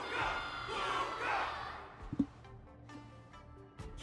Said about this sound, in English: Can't you hear? Everyone's cheering for you, Luka!